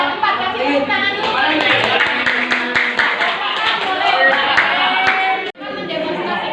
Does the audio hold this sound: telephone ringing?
no